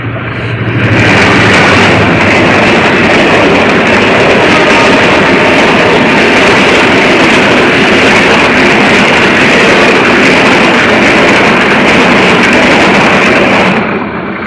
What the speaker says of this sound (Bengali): দেখেন ট্রেন রাতের বেলায় কিভাবে যাচ্ছে